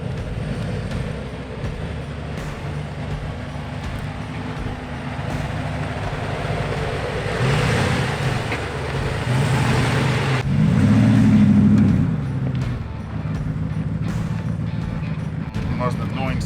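Lifted 2019 Ram 1500 Rebel pickup crawling off-road in four-wheel drive, a steady low engine drone that swells louder for a few seconds midway, with people talking over it throughout.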